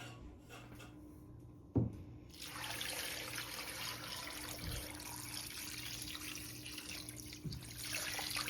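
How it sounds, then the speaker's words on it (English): Water runs from a tap into a pot of bones for broth, a steady moderate splashing stream in a kitchen with a sharp knock near the start. "we're just gonna add enough water to cover the bones a little bit."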